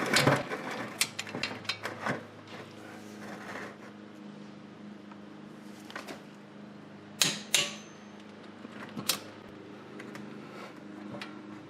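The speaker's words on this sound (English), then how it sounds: "Torque the bolts to 63 foot-pounds, which is 85 Newton meters." Ratcheting clicks of a torque wrench tightening rear brake caliper bolts on a Porsche 997.2, a run of quick clicks followed by a few sharper isolated clicks against a quiet steady workshop background.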